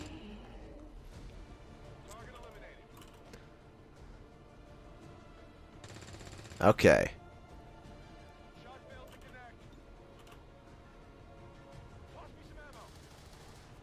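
Gunfire from XCOM 2: War of the Chosen as soldiers shoot at the Lost, one sharp loud burst of shots standing out midway against a quiet game backdrop, with someone talking briefly.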